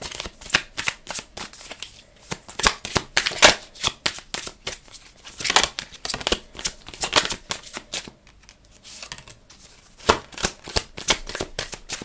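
Tarot cards are shuffled by hand in quick, crisp riffling bursts with short pauses between, close and fairly quiet, with no talking.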